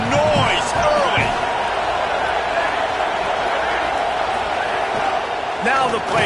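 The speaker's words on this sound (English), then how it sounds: "This crowd bringing the energy and noise early." Stadium crowd roaring steadily in the EA College Football 27 video game during a Michigan Wolverines versus Western Michigan Broncos game, a dense sustained wash of noise with brief speech over it.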